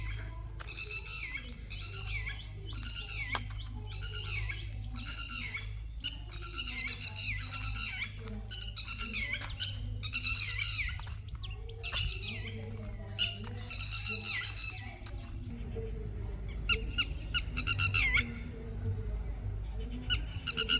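Several chicks and adult birds chirp and squawk in quick, overlapping bursts close by, a busy chorus of short high calls running throughout over a steady low hum, with no talking.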